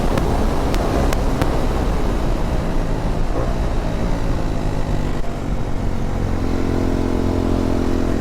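A motorcycle cruising steadily along an open road with a constant engine drone and heavy wind rush, loud and close throughout, with a few brief sharp clicks near the start.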